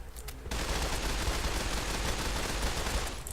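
Automatic fire from a modded assault carbine loaded with explosive bullets in Fallout 4. After a brief quieter lead-in, a loud, dense stream of shots and blasts runs continuously for about three seconds.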